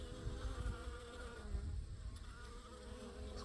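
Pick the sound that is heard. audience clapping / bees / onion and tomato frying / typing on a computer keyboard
bees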